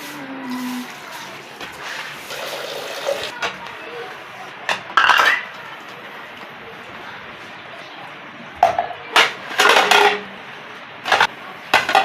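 Dishes, pots and pans being washed in a home kitchen give sparse clinks and metallic clatters, scattered irregularly over a quiet, hissy background with louder bursts of clanging toward the end.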